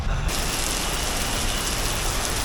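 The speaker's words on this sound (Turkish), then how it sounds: "Var ya durmaksızın yağıyor." Heavy rain drums steadily on a car roof in Bangkok, a dense unbroken roar close around the cabin with no voices.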